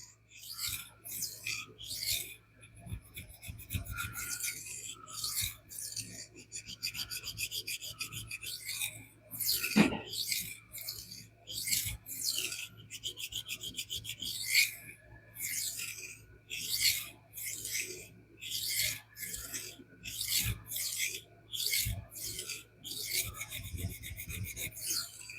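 A Gerber Sumo everyday-carry knife drawn across King water stones in steady, rhythmic rasping strokes, each a short scraping swipe repeated continuously at close range with no talking.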